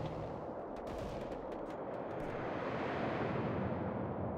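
Soviet guns firing in the World War Armies video game: a dense, continuous roar of heavy gunfire and artillery, with sharp bursts of shots early on over a sustained rumbling barrage.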